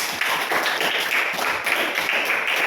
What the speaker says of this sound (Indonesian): Oke, tepuk tangan Pak Andi.